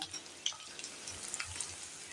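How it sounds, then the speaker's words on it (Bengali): Onions fry over a low gas flame in a pan for a Bengali fish-head cabbage curry, giving a quiet, steady crackling sizzle with a few faint pops and no voices. "লাল লাল করে ভাজা করে নেব। এটা কিন্তু হাই ফ্লেমেই ভাজা করব।"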